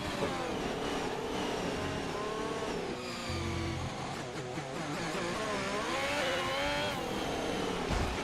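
Racing car engine in F1 2021 esports at Belgium, high whining revs with continuous engine drone and shifting pitch as the rear wheels spin, loud and steady throughout the clip.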